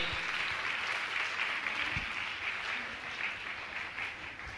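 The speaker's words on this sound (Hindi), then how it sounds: "मैं चाहूंगा आप जोरदार ताली बजाकर इनका सम्मान करें" An audience at a Jain religious discourse gives sustained applause during an honoring ceremony, a steady, even wash of many clapping hands that sounds distant and fairly faint.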